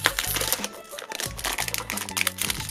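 A small plastic bag from a Play-Doh surprise egg with Shopkins toys is handled and opened, giving loud, irregular crinkling and crackling close up, with brief rustling pauses.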